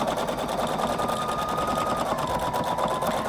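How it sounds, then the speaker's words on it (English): Husqvarna Viking Designer Brilliance 80 sewing machine stitching, a fast even mechanical whir with rapid needle ticks running steadily throughout, fairly quiet and close. "we're going to stitch over that section there"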